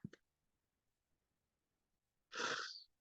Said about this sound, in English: I just had a kid sneeze.